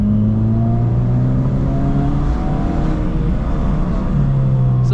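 A naturally aspirated 2007 Honda Civic engine revs hard in second gear, a loud, continuous rising scream with a brief dip near the end before climbing again, heard alone with no talk.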